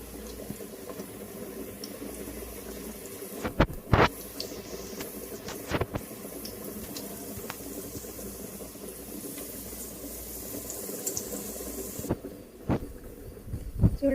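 Oil sizzles in a pan while a bitter gourd fry is being made, a steady close hiss broken by a few sharp clatters and pops, with no talking.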